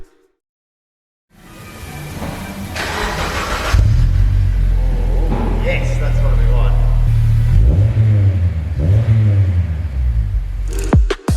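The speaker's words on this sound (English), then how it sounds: "once we had all the bolts, gaskets and exhaust tips installed, it was time to fire it up" After a moment of silence a Honda Accord CL9 with a newly fitted Yonaka catback exhaust fires up and settles into a deep rumble, then revs repeatedly with throaty surges; someone briefly speaks.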